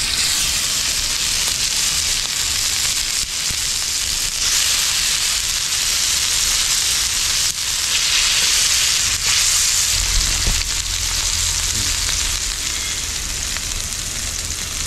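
Village-style honey chicken pieces fry in a pan, a loud, steady, continuous sizzle and crackle with occasional low bumps from stirring, no voices.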